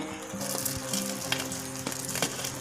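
Veg Manchurian balls fry in hot oil in a pan, giving a loud, steady sizzle with crackling bursts and occasional stirring scrapes throughout, no voices.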